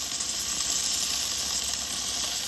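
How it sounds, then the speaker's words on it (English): Grease dripping onto hot coals in a Weber 22-inch kettle grill, a steady close sizzle and crackling hiss that stays even throughout with no voices. "There's sizzle from the grease falling out."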